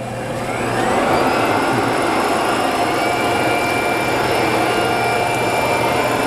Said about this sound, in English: the machine is gonna rip the job and then send the file over to the printer